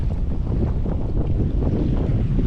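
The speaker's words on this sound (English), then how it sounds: "A little more wind than they called for" Strong wind roars across a fishing boat out at sea in rough, choppy conditions, a loud continuous buffeting rush with no voices.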